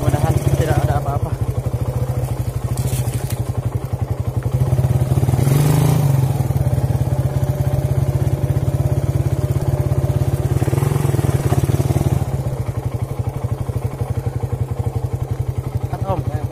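A Suzuki Satria FU motorcycle engine runs loud and steady throughout, its rattly idle swelling into revs twice, with voices mixed in.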